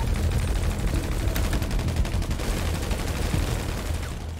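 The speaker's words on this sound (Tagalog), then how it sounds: "Baril na namin," Rapid, continuous video-game gunfire rattles in dense bursts, loud and close, with no voices heard.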